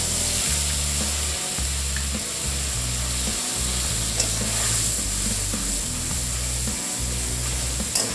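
A spice paste with bay leaf and cumin fries in a pot for dal with giant taro and prawns, giving a continuous broadband sizzle over a loud, steady low mechanical hum.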